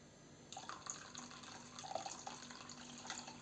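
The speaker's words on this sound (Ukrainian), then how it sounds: "Тепер вливаємо цю заварену каву." Brewed coffee poured from a container into a bowl of milk and pudding mixture while making a layered cake, a soft, quiet liquid trickle with small splashes lasting a few seconds, no talking.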